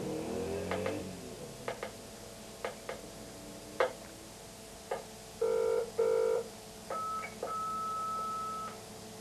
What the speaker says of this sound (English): Sheila's terminal is capable of dialing into it automatically